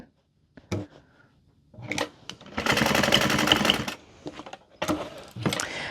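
A sewing machine back-stitching a handbag seam runs in one sustained burst of rapid stitching, framed by short clicks and handling noises before and after.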